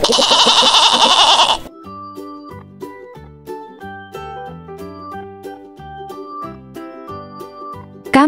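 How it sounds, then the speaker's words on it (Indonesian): A goat bleats loudly for over a second at the start, followed by a bright, plucky musical melody playing on its own. "Kambing."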